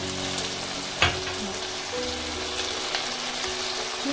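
Onions and vegetables sautéing in a pan for a home-made bread chicken snack, a steady close sizzle running throughout with one sharp clink of a utensil near the start.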